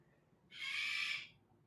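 A small bird gives a single short, high, clear call, close and alone against a quiet background.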